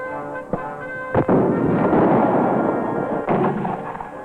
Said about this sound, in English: grab one of these 106 millimeter recoilless rifles